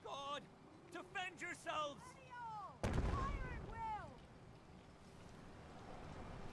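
Gunfire against Gulpers in the Fallout 4 video game, a sudden loud burst of shots that rings out and fades after a stretch of shouting voices, with faint talk continuing underneath.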